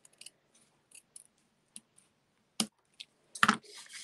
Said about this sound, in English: so I can just go and cut this part off here now